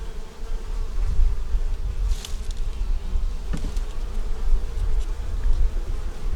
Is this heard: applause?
no